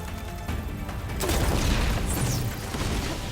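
Explosions in the Horizon Forbidden West video game, a booming blast swelling after a second into a loud rumbling roar with crackling debris, then settling into a lingering rumble.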